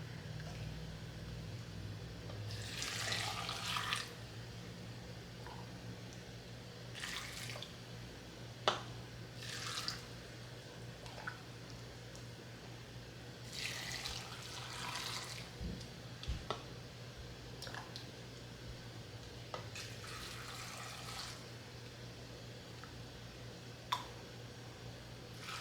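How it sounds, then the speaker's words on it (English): Hot water poured into canning jars of green beans already salted, heard as several soft, intermittent splashing pours over a steady low background hum. "Now we're going to fill these with hot water."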